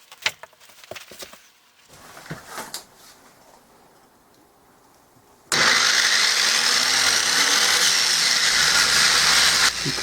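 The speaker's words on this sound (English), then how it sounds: "Because the machine is very rickety, it also bounced around a lot and required a lot of attention." A rickety homemade grinding machine rolling cement spheres. A few faint knocks and clatters come first, then the machine starts up loud and stays on as a steady, harsh whirring rumble.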